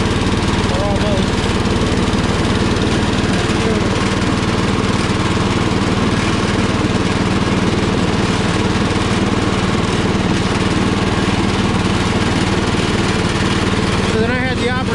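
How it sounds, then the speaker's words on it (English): A Power King garden tractor mows a lawn, its engine a loud, steady, close droning rumble that holds unbroken from start to finish. "We are at the end of our mowing for today"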